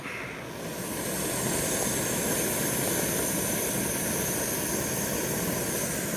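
A camp stove burner roars steadily after being turned up to boil water at a campground, a broad, constant hiss that swells in the first second and then holds loud and even.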